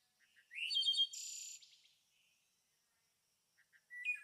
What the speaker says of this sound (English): A bird chirping in the distance